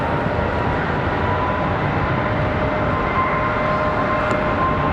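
A departing Airbus A321 at Charlotte Douglas airport gives a loud, steady broadband jet roar that holds constant throughout, with no voices over it.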